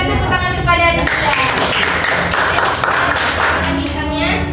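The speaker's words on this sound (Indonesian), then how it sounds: "berikan tepuk tangan kepada Rizkia" Schoolchildren in a classroom clap for a classmate, a dense, steady burst of applause that starts about a second in and carries on to the end, with voices mixed in.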